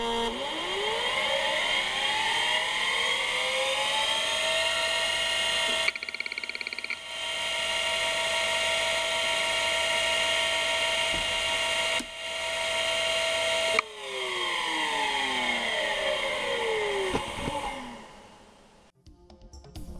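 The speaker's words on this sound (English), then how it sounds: "what kind of hard drive purchase would be complete without the obligatory spin up and spin down sounds?" A Conner hard drive in a 486 PC spins up with a rising whine that settles into a steady high-pitched hum, then spins down with a falling whir, heard close and alone.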